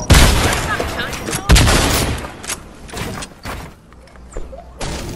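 Clinger grenades and gunfire in a Fortnite match: loud, booming bursts land near the start, around the middle and at the end, with a dense crackle of shots between them and voices talking over the action.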